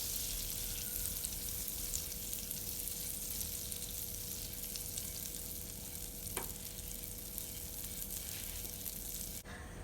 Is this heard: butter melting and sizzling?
yes